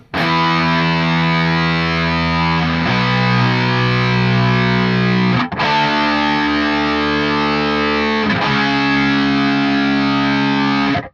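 Loud, heavily distorted low bass guitar chords ring out in sustained blocks, changing every few seconds with brief breaks, thick and buzzy with no voices.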